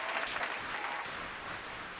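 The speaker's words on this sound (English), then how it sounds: "give a round of applause right there for EP and Dana" An applause sound effect plays during a live online show for AAPI Heritage Month, a steady wash of crowd clapping at even loudness throughout with no voices over it.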